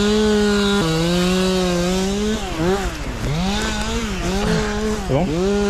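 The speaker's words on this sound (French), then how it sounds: "il y a un arbre en plein milieu, donc on est obligé de le découper" A chainsaw cuts through a fallen tree lying across a snowmobile trail, its engine whining in shifting pitch, revving and bogging down repeatedly as it bites into the wood, loud and close throughout.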